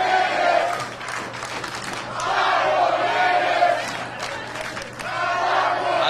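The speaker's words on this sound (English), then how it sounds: "Crowd chanting five more minutes." Professional wrestling crowd chanting "five more minutes" in rhythmic waves, a loud, reverberant mass of voices that rises and falls across the arena.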